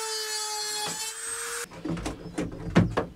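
A Dremel rotary tool with a cutting bit works during a small boat's 12-volt wiring install, giving a steady high whine before bursts of gritty cutting and grinding contact, close and alone.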